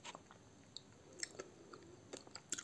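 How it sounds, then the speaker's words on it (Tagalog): Pistachio chocolate with a crunchy filling is chewed close to the mic, giving soft, irregular crunchy bites and mouth clicks that are quiet and scattered across a few seconds, with no talking. "Pag kinakain mo yung pistachio, may crunchy siya."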